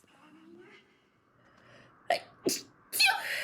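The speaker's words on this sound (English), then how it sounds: "Oh, I have to sneeze." A person sneezes close to the mic in a few sharp bursts after a soft voice and some breathing, with the last burst trailing into noise.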